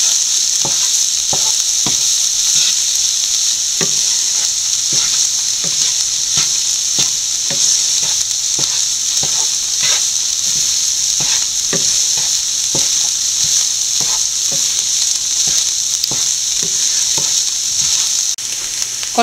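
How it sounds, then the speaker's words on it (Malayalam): Spinach stems and onion sizzle loudly in a frying pan while being tossed and mixed, with a steady hiss broken by regular spatula knocks and scrapes. "നല്ലപോലെ കൂട്ടി യോജിപ്പിക്കുക"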